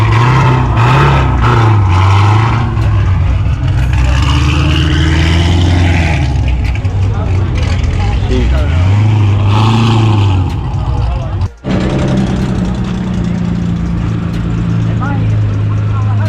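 A loud, modified Honda Civic Type R running on E85 revs hard on a night drive, its engine note rising and falling in surges, with people talking over it.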